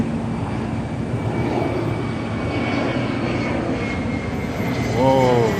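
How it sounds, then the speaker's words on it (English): A Delta airliner coming in to land over suburban Atlanta near Hapeville sends a steady, broad engine roar across the whole stretch, loud and close, swelling slightly near the end with a rising whine. "look at this airplane coming in"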